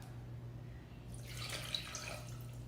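Water is poured from a cup into sugar for a tanghulu syrup, a soft, quiet rush of liquid that swells partway in over a steady low background hum.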